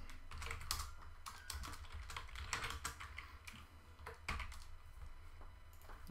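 Rapid typing on a computer keyboard during web development work, a dense, continuous run of close clicking keystrokes with irregular rhythm and no talk.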